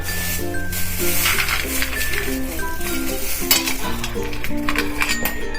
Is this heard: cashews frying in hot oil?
yes